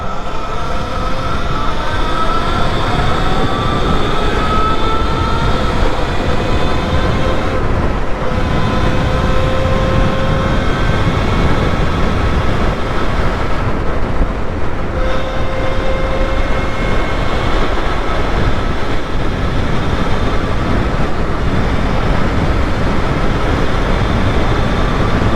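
An electric bobber motorcycle with a new battery, ridden flat out in third gear: a continuous loud rush of wind and road noise with a faint rising motor whine, steady throughout with no pauses.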